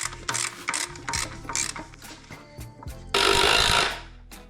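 A hand ratchet bolts an engine mount to the transmission on a Civic being fitted with an Integra B18, with rapid bursts of clicking ratcheting separated by short pauses, then a louder grinding rattle toward the end.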